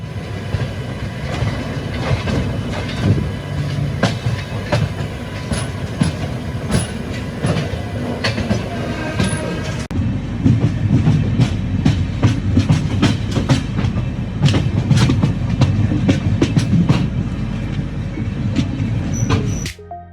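A double-decker passenger train between Chennai and Bangalore in India rolls along steadily, with a low rumble and repeated clacking of wheels over rail joints, continuous and close, with no voices.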